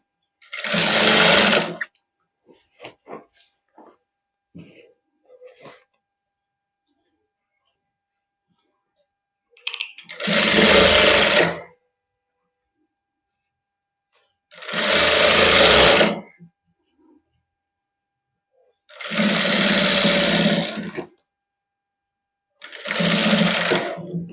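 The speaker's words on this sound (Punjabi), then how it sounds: "ਇੱਥੋਂ ਹੁਣ ਆਪਾਂ ਇਹਦੇ ਤੇ ਇੱਕ ਵਾਰੀ ਸਾਈਡ ਤੇ ਸਲਾਈ ਲਾ ਲੈਣੇ" A domestic sewing machine stitches the side seam of a printed suit in several loud, steady bursts of whirring, separated by pauses with faint handling clicks of the fabric, close to the listener.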